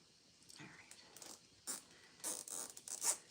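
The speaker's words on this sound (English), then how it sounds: "So zip ties are like my favorite sound for the winter season." Zip tie ratcheting tight on a live winter wreath, a few quick zipping bursts close by, growing louder toward the end, with faint whispery handling noise between.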